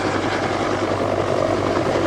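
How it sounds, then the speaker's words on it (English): A Westland Whirlwind HAR-10 helicopter with a Bristol Siddeley Gnome turboshaft engine at an airshow gives a steady, loud turbine whine and rotor roar, continuous and unbroken, with no voices. "another lovely engine note, Andy, that of the Bristol Siddeley Gnome turboshaft engine"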